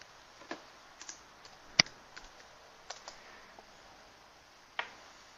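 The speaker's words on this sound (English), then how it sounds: "and then if I start typing" Sparse typing on a computer keyboard while editing a shared Google Docs document, a few scattered key clicks with one sharper tap and long quiet gaps, faint and close.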